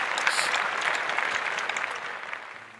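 An audience at a parents' discussion event in Erode applauds warmly, a dense, steady wash of many hands clapping at close range that slowly tapers.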